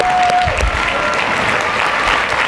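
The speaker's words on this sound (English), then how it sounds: "Give a round of applause for Becca." Audience applause at a high school talent show for a volunteer named Becca after a card trick, a steady dense burst of clapping that fills the room.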